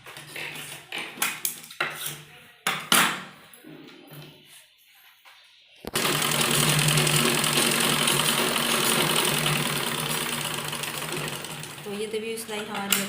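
Sewing machine stitching a baby frock, first in short stop-start bursts between pauses, then running steadily and loudly for several seconds before easing off, with someone talking over the early part.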